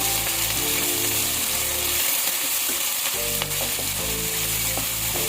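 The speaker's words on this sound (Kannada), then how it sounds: "ನೋಡಿ ಇದನ್ನೆಲ್ಲ ಫ್ರೈ ಮಾಡ್ಕೊಳ್ಳೋಣ" Ginger garlic paste sizzles steadily in hot tempering oil, a continuous loud frying hiss with occasional stirring clinks and no voices.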